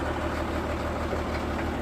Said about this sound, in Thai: เอาเร่งเครื่องไว้เขาลองดู